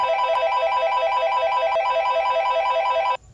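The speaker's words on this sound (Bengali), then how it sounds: "ফোনে একটা কল আসে" A cartoon phone rings for an incoming call, an electronic ringtone repeating in a steady pulsing pattern, loud and close, stopping abruptly near the end.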